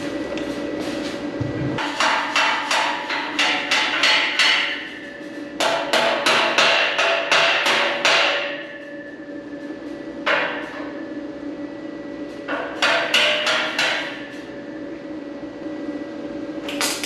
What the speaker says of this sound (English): Let me get my small hammer real quick.